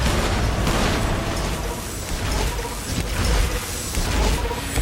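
Missile explosions in the game Fallout: New Vegas roar as loud, continuous booming blasts. Heavy rumbling fills the whole stretch without letup or talk.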